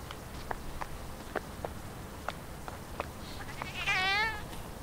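Cats meow in a dark horror video game set around a church, several faint, scattered calls spaced across the stretch over a low ambient drone, ending in one longer, louder wavering yowl.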